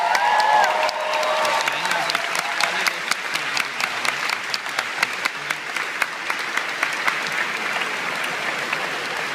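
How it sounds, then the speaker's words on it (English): Convention audience at a Star Trek event in London applauding the weekend's guests: sustained dense clapping from a large crowd throughout, loud and steady with a few sharper claps standing out. "give them a big round of applause"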